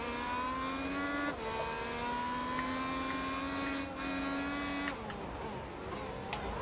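A race car engine in a racing video game drones continuously at high revs, the pitch climbing through gears with brief drops at each shift, steady and loud with no talking.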